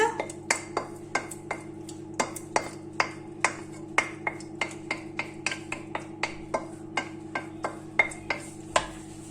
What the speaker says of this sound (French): Là, je mets le tout dans notre moule.